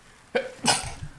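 A single close sneeze with a sharp breathy onset and then a forceful burst, followed by a short breath.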